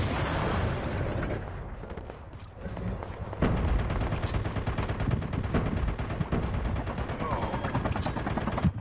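Loud rumbling blasts and gunfire in Call of Duty Mobile fill the clip, with a heavy tank explosion boom midway followed by continued crackling battle noise.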